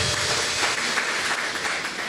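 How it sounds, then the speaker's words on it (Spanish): A church congregation claps together in a dense, steady wash of applause that runs evenly from start to finish. "Dale un aplauso al Señor por esta palabra también"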